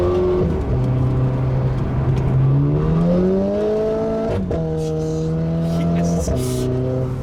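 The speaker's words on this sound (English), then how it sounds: "I'm just playing with the exhaust now and stuff" A Renault Clio RS 220 Trophy hot hatch revs its engine, the exhaust note climbing and dropping through several throttle blips, close and loud with tonal drone, while people talk over it.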